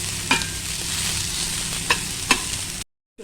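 Onions and tamarind sizzle in a hot pan with a dense, continuous frying hiss, broken by a few sharp clinks of a spatula stirring before it cuts to silence.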